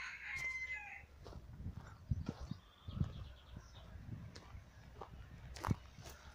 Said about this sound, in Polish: O, też kogut.